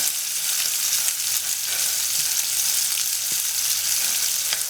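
A hot pan sizzles steadily and evenly as oyster sauce goes in with pork for baked shrimp and glass noodles. The hiss is close and continuous, with faint stirring underneath.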